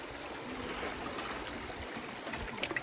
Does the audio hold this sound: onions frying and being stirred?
no